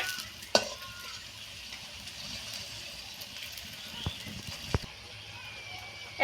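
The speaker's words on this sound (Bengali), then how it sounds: "পরোটা তেলের মধ্যে ছাড়বো।" Potato paratha going into a little oil in a kadai, a soft low sizzle with a few sharp clicks and scrapes of utensils against the pan over a quiet background.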